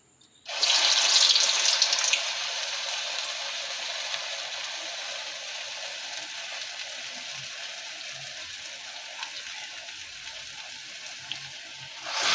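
Urad dal vadas fry in hot oil with a loud, dense, steady hiss that starts abruptly and holds for the whole stretch, easing slightly after the first moments.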